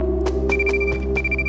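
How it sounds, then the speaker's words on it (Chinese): A telephone rings inside The Tomorrow Children video game, a bright electronic tone repeating in short pulses over a steady low in-game hum, with no talking. "电话响了。"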